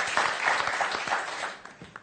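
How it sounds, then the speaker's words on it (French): A television game show studio audience claps and applauds, a dense burst of hand claps that fades gradually over two seconds. "Vous pouvez applaudir"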